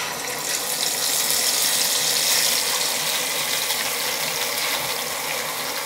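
Garlic paste hitting hot oil with spices while making olive pickle, a loud steady broadband sizzle and fizz that holds for several seconds with no voices.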